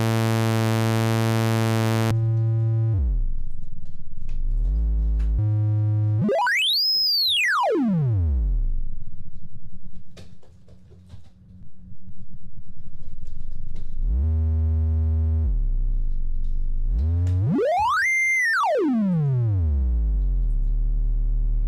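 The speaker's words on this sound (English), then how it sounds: "Got our sine wave." Pure sine tone from the oscillator of a Moog Model 15 synthesizer app, sweeping up and down in pitch in two broad rising-and-falling glides with steady held notes between, loud and alone.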